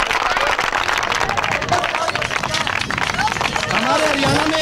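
A crowd applauds at a live Haryanvi folk music show, with dense, steady clapping and cheering throughout and voices mixed into the noise.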